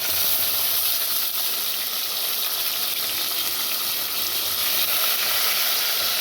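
Chopped tomatoes and onions frying in a pan, giving a loud, steady hiss and sizzle that stays close and continuous throughout with no speech.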